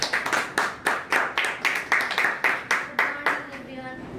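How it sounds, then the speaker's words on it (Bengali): An audience claps in a quick, even rhythm of about a dozen sharp, loud hand claps at a student-to-business-women event, the claps trailing off at the end. "জোরে হাততালি হোক"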